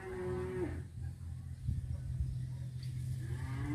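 Cattle at a cattle sale moo in long, loud, low calls, the first one nearby and another one rising at the end, over steady outdoor rumble.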